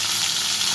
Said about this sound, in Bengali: আমি আগে সিমগুলো একটু ভেজে নেব সুন্দর করে, ভালো করে লাল করে ভেজে নেব।